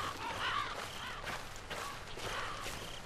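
Crows cawing in the horror game Slender: The Arrival, repeated harsh calls scattered over a steady ambient wash at moderate loudness, with no talking.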